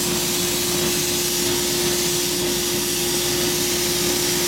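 An air compressor feeding air lines for a sand bead blaster runs with a loud, steady, close drone and a constant low hum that does not change in level or pitch.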